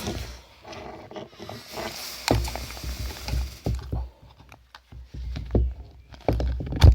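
Plastic valve on an Outdoor Revolution inflatable tent being unscrewed and spun by hand, giving scattered close clicks, ratchety turns and rustles, with quiet stretches between.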